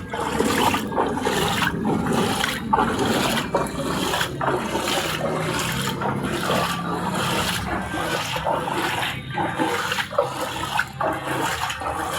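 Floodwater rushes along a street in Bacoor, a steady, loud churning wash of water that runs without a break from start to finish, with no voices over it.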